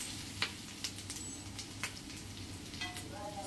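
Cumin, mustard seeds, curry leaves and garlic fry in hot oil for chivda, a soft steady sizzle with scattered small pops and stirring clicks, fairly quiet.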